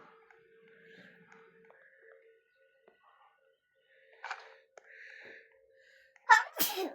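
A single sharp, close sneeze bursts out loudly at the end, after quiet outdoor moments with a faint gasp and soft background voices.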